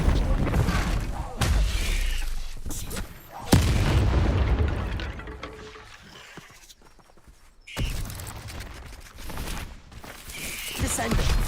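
Spell effects from a Harry Potter video game, including the Descendo spell: a series of loud booming blasts with sharp onsets and crackling tails, spaced irregularly with short near-silent gaps between them, and a voice calling out spell names among them.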